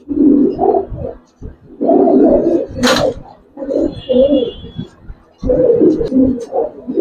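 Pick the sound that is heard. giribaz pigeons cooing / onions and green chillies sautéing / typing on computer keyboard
giribaz pigeons cooing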